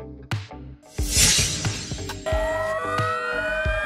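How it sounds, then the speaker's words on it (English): A fire engine siren wails loudly and up close, rising into a sustained steady tone after a series of sharp clattering knocks and bangs, with no one talking. "Fire engine."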